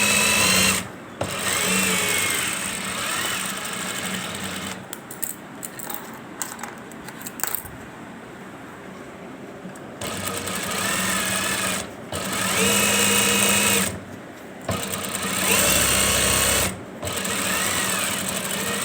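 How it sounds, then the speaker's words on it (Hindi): Sewing machine stitching the hem of a men's shalwar, its steady whirring run broken into several bursts with short pauses between, close and loud with no talk. "इस तरह हल्की सी मशीन आगे चलती हुई जाए।"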